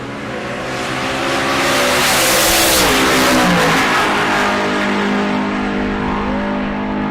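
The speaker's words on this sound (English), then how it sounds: "so the Chevrolet goes down there, rolling through in a 9-second run" A Chevrolet station wagon makes a 9-second drag racing run at Cordova Dragway, its engine roaring loud and close, the revs climbing and then dropping through a gear change before sweeping on steadily.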